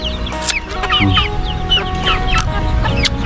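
Chickens cluck close by as they gather to be fed rice at a rural family home in Thailand, with overlapping busy calls and short squawks over a low background hum.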